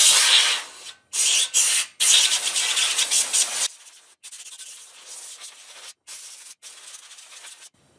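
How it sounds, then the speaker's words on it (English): Compressed air from an air compressor blasts dust out of an Xbox 360, loud close hissing bursts with abrupt stops, the first few strong and later ones softer and choppier. "Make sure your air compressor isn't set too high of a pressure."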